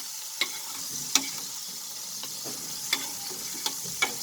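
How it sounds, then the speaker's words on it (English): Prawns fry gently in hot oil in a pan, a soft steady sizzle with a few sharp ticks and taps of a utensil stirring at irregular intervals. "Just little bit we are frying it so that the raw smell goes out."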